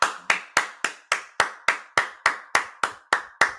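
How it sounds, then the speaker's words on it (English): Claps at an NFL draft watch party: about thirteen sharp, loud hand claps in a steady, even rhythm, close by and alone with no talking. "let's give Stephen Jones another round of applause"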